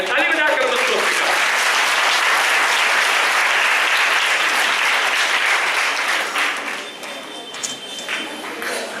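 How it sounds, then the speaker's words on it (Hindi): An audience at a church service claps to welcome Pastor Stanly Johns, dense sustained applause that holds strong for several seconds before thinning and tapering toward the end. "ताली बजाकर उसको स्वीकार।"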